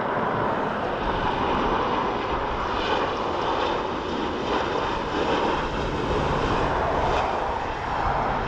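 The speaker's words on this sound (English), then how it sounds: "There's our Embraer" An Embraer aircraft at Dublin Airport, heard as a continuous broadband engine roar with a steady airy rush, fairly distant and even in level, with no talk over it.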